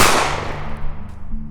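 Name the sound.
gunshot sound effect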